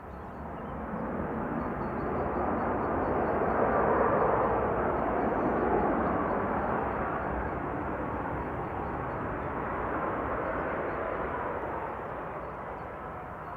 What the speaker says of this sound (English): Set the gain up so we can get these reverse thrusters on. Come on, Ryanair, don't let us down.